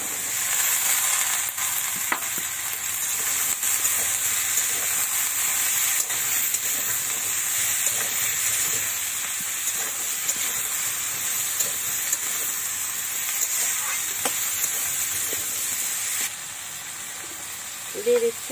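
Silver carp fish head and vegetables sizzle steadily in a hot pan, a continuous bright frying hiss with faint stirring scrapes, close and fairly loud, briefly dipping near the end.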